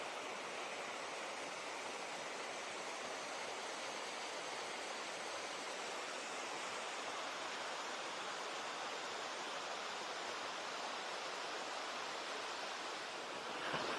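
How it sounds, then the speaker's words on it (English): A waterfall in the Cranberry Wilderness of West Virginia gives off a constant broad rushing hiss, steady and unbroken at moderate distance, with no voices. "You see that waterfall? It's just beautiful."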